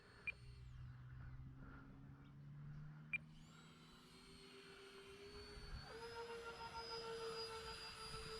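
An E-flite A-10 RC jet model makes a slow pass, its steady ducted-fan whine rising in pitch and growing louder as it approaches, with a continuous airy rush and no talking.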